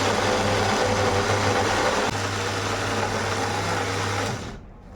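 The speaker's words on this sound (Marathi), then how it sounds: "तर मिक्सरला मी फिरून घेतला आहे" An electric mixer grinder whirring loudly as it grinds soaked rice into idli batter, a steady high motor whine with a slight shift midway that cuts off and winds down near the end.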